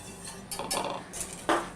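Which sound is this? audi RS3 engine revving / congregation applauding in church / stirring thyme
stirring thyme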